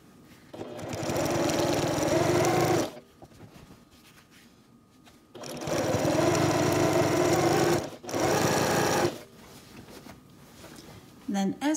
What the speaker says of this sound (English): I'm going to start stitching down from the edge, and I'm going to stitch with a quarter inch seam allowance